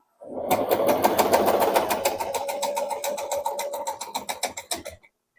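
A sewing machine runs freshly threaded with its bobbin set, a fast even train of mechanical clicks and a whirring motor hum, loud and close, slowing into distinct stitches before stopping.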